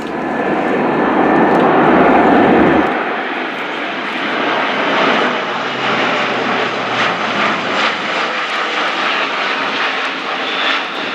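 An Airbus A400M military transport makes a flying display pass with its undercarriage down, a loud continuous turboprop roar that starts heavy and close, then eases into a steady, slightly fading drone.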